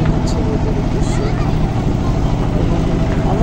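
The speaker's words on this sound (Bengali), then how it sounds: "ট্রলার ছেড়ে দিচ্ছে রোদের উদ্দেশ্যে" A trawler sets off across Kaptai Lake. Its engine gives a steady, close, droning hum that holds evenly throughout.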